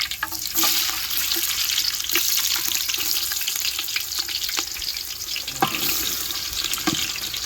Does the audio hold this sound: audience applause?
no